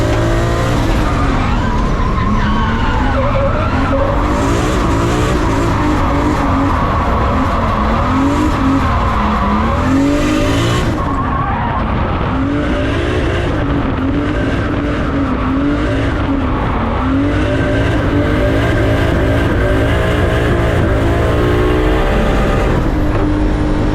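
A wide-arched, engine-swapped BMW E36 3 Series running 750 horsepower on low boost drifts with a loud, sustained engine roar and long, continuous tire squeal, close and unbroken throughout.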